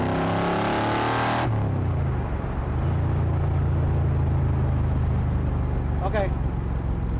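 A 7.3-litre Godzilla V8 is held at half throttle after a short burst of speech, settling into a loud, steady, deep engine drone close by, with a brief higher whine near the end.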